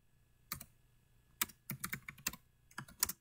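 Keys on a computer keyboard being typed in short, separate bursts of crisp clicks with brief pauses between, close and clear with no talking.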